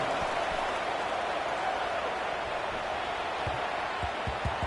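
Dense stadium crowd noise from NCAA 26 college football, Georgia Tech at Miami, a steady broadband roar filling the whole moment with low thumps scattered underneath, right after a touchdown.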